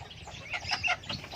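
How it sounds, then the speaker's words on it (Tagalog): A native farm hen, out with her newly hatched chicks, clucks in a few short, soft bursts close by. "Ito yung nawawalang manok."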